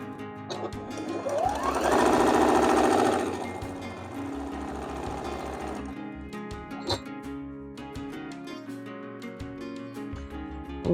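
Sewing machine stitching seams on a quilt block, a loud steady whirring run that swells then settles into shorter bursts of needle clatter, close by with no talk.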